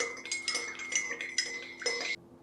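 A spoon stirs sugar into coffee in a mug: quick, rhythmic clinks and scrapes against the sides, close and clear, then stopping abruptly.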